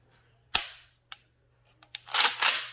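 A Galil Ace pistol fires a loud, sharp shot, followed a bit later by a quick double shot, each crack close and echoing briefly outdoors.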